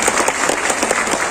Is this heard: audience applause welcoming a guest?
yes